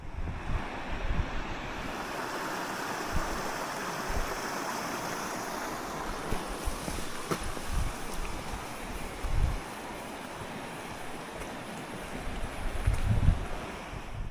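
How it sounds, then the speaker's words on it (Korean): Loud rushing river water roars continuously beside a railway crossing in winter, a broad steady wash with occasional low gusts of wind buffeting the microphone. "겨울이지만 물소리가 참 우렁찬데요"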